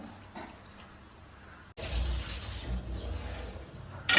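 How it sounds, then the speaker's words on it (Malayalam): Water poured into a cooking pot for a Kerala-style mango curry with jaggery, a steady splashing pour that surges louder midway and runs on close by with no talk. "വെള്ളം ഒഴിച്ചിട്ട്"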